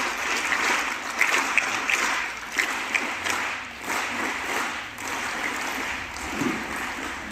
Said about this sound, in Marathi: जोरदार टाळ्यांचा कडकडाट पुन्हा एकदा 1 2 3 स्वरूपात.